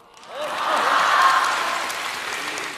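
A comedy-show audience bursts into applause, a dense wash of clapping that swells quickly, peaks and then tapers slightly while continuing to the end.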